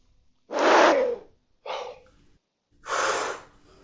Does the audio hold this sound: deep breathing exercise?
yes